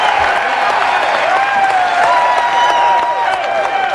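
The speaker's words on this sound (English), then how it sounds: "There's the Connecticut crowd" A large Connecticut delegation at the Democratic National Convention cheers and applauds in a loud, continuous roar of clapping and shouting voices that fills the hall.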